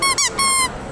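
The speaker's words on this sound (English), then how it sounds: "Then they have this squeaky toy, which is Mickey's foot." A squeaky dog toy shaped like Mickey's foot gives three quick, sharp, high-pitched squeaks in close succession, loud and near, with no voices.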